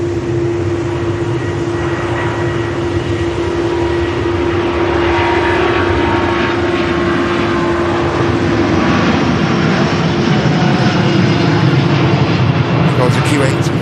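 An Airbus A320neo-family airliner departing Manchester Airport: steady loud engine roar with a sustained humming tone, continuous throughout and building slightly, with a commentator talking over it.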